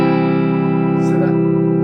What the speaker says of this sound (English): that is the neck pickup.